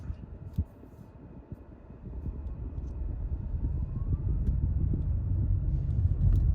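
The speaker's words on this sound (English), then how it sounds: "I just want to show you how you can accelerate" A Toyota Prius Prime accelerating, heard as a low road rumble and drivetrain drone that swells steadily louder over several seconds, with no talking.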